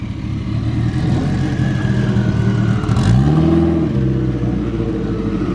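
A turbocharged Dodge Shadow running 17 psi of boost and 17 degrees of timing makes a steady, loud third-gear pull on a dyno, its engine droning continuously and climbing in pitch as the revs rise, with no voices.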